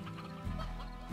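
A rooster in the video game Slime Rancher gives short, close clucks over a steady, dense game background.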